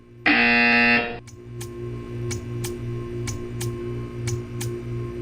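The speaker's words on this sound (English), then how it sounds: "You will hear a buzzer." A single loud, harsh electronic buzzer from the video game Portal 2 blares for about a second, then stops, leaving a low steady hum with faint regular ticks.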